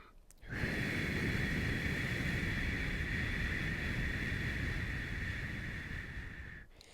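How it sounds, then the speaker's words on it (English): Slow, controlled exhale through pursed lips, a single steady breathy hiss with a faint whistling tone that holds for about six seconds and tapers slightly at the end, close to the microphone with no talking. "Just breathe out your mouth through pursed lips."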